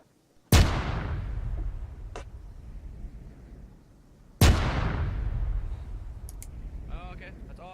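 Two loud grenade blasts in a military shooter game during squad training, each a sharp close boom with a long decaying rumble, a few seconds apart, with faint clicks and brief voices between.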